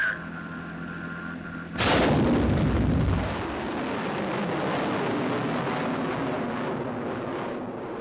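Guided missile launching at White Sands Proving Ground after a countdown; a sudden loud blast followed by a sustained roaring rumble that fades slowly, distant and without voices.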